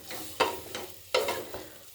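Chopped vegetables frying in a pot for a chicken veggie soup, with stirring scrapes and sizzle bursts in two clear clusters over a low steady background, close and moderately loud with no talking.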